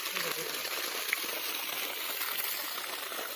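Water gushes steadily from a 3hp Versil four-stage solar pump rated for 90 feet, a continuous broadband rushing hiss with no breaks, moderately loud and close.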